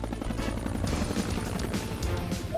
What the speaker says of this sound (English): It's Adventure Bay's amazing helicopter pilot, Skye